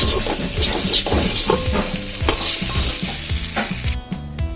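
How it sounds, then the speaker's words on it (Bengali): Water poured into a sizzling potato curry in a pan, bringing a loud burst of hissing and bubbling with rhythmic stirring clatter, close up, before the sizzle drops away at the end. "এবার জল দিয়ে দেবো।"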